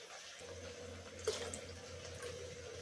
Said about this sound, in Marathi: आता हे पाणी आपण पुलावामध्ये टाकूया